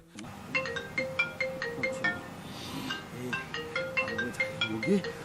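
A phone ringtone repeats its tinkly melodic pattern over and over, loud and near, ringing out unanswered while faint voices murmur underneath.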